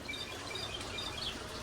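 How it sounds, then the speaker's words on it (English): A mockingbird sings in a New York garden, with a few high, bright chirps and whistles set against a soft, steady background. "there's a mockingbird that loves to visit me"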